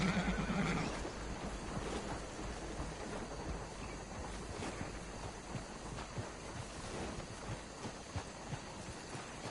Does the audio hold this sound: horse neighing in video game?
yes